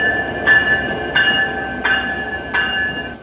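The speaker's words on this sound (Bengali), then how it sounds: "ঢাকা ক্যান্টনমেন্ট স্টেশনের 1 নম্বর প্ল্যাটফর্মে হাজির হলো ট্রেন নম্বর 13-110 সাপ্তাহিক মৈত্রী এসি এক্সপ্রেস" The weekly Maitree AC Express rolls into platform 1 at Dhaka Cantonment station, a steady rumble broken by four evenly spaced rhythmic clanks of wheels over rail joints, close and fairly loud.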